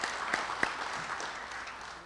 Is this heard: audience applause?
yes